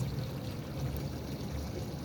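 Water pours and trickles steadily while a garden is watered. A continuous, moderately loud rushing stream runs with no break and no voices.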